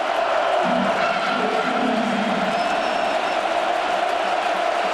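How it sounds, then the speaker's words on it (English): Dense roar of a packed Penn State football stadium crowd during a college game against Michigan, a steady sustained wall of cheering and shouting that stays loud for the whole stretch with no clear voices standing out. "If you're Tom Bradley, it's a huge advantage, Kirk, for the defense with this kind of crowd noise in here."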